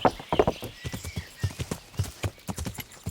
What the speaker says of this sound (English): We'll just ride on through all of this.